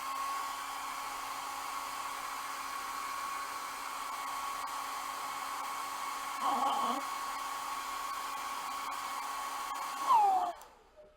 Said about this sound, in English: Now I can get the hair dryer out.